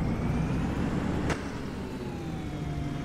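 Bus in the OMSI 2 simulator, a steady low engine rumble and road noise with a faint whine, a sharp click about a third of the way through, continuous and close.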